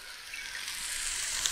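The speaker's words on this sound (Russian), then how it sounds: "Прям буквально минуту пассируем нашу томатную пасту вместе с луком." Tomato paste and onion sizzle softly and evenly in a kazan over an open fire, with a steady hiss and no talking.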